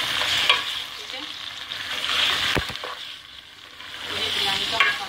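Chicken, one kilogram, frying in a pan with golden-browned onions for biryani, a steady close sizzle with stirring scrapes throughout, no voices.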